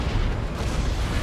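A Manticore strike lands in the video game Dawn of War 2 during a 3v3 match, a short, loud, rumbling explosive blast that fills the whole moment with a deep, continuous roar.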